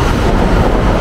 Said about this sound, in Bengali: high speed train